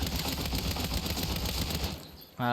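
Rapid automatic fire from an AR assault rifle in the Saints Row video game, a dense stuttering burst lasting about two seconds before cutting off, followed by a brief tonal game sound.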